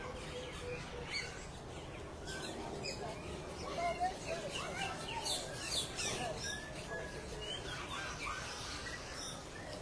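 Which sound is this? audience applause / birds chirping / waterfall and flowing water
birds chirping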